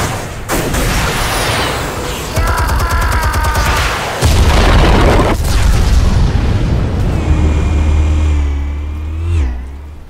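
Explosives detonate in Batman: The Telltale Series, a loud, dense run of booming blasts and crackling debris that fills the whole stretch, with a rumbling low tail and a brief mechanical whine near the end.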